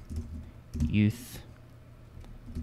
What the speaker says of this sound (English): double click in here and just start typing